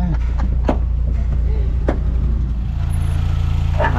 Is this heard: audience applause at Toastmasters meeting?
no